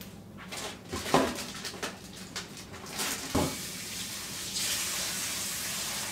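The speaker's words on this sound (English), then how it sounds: "Let me dash over to the sink and put this in there and rinse my hands off." Hands are rinsed under a running kitchen sink tap, with a steady stream of water broken by irregular splashes and spatters as the hands move, and no voices.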